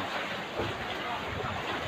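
Steady rushing water noise, broad and continuous, with a low rumble and no distinct splashes, as floodwater overflows a dike close to a house in Navotas.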